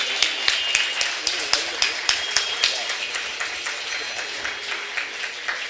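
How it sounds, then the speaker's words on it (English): Audience applause at a bhajan gathering for the 60th-year Ramanavami celebration in Ghatkopar East, with sharp individual claps standing out over a steady bed of clapping that softens slightly toward the end. "A big round of applause, please."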